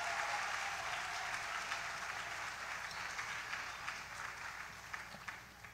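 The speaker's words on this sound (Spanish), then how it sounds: "Vamos a recibirlo con un aplauso más fuerte, por favor." Steady, dense applause from a church audience welcoming a pastor at a summer camp closing event, continuing loudly and evenly throughout with scattered sharper claps near the end.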